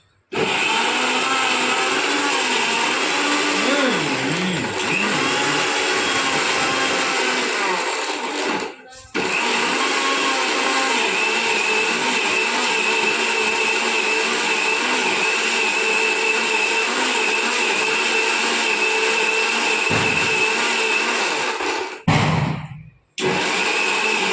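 A kitchen grinder blending chillies for chibbar chutney, a loud, steady motor whir running close for over twenty seconds, with two brief pauses and a stop near the end.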